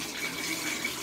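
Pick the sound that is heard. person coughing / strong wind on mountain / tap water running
tap water running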